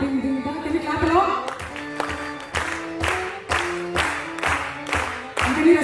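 An audience claps along in a steady, even beat to a tabla and mridangam jugalbandi of classical rhythms. The clapping is close and loud, with sharp regular hits over ringing drum tones.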